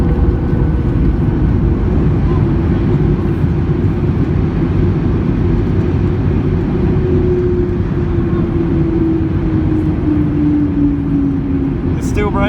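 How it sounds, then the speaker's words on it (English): Inside the cabin of a Ryanair Boeing 737-8AS(WL) just after touchdown, a loud, steady engine roar of full reverse thrust with heavy braking fills the space, a falling whine running through it, with a person talking over it. "Brakes and it's full reverse."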